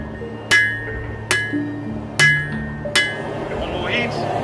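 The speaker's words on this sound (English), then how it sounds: "I hammer down flat the length of where I want my blade to be." Four sharp metallic hammer strikes on hot steel, flattening it to forge a knife blade, ring out at an uneven, deliberate pace, each blow leaving a bright ringing tail.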